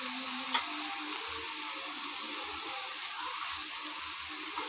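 Small pieces of chicken and potatoes fry in hot mustard oil, giving a steady, close sizzle with no talking.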